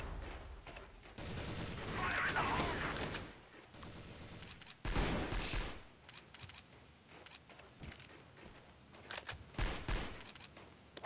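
Rapid bursts of M60 machine gun fire in the online shooter CrossFire, several sharp rattling volleys spread across the clip with gaps between them, fairly faint game audio.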